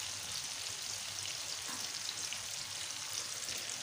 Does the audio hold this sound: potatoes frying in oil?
yes